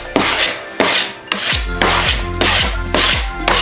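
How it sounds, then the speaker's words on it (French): Reclaimed wood planks being sanded for a table, loud close rasping strokes in a steady back-and-forth rhythm, about six passes in under four seconds, with no talking. "un petit coup de ponçage encore."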